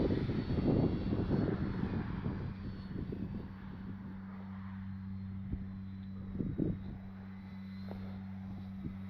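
A Durafly Tundra V3 RC model plane on 4S power drones at a distance flying low, a steady buzz under wind noise, with a brief gusty rumble at the start.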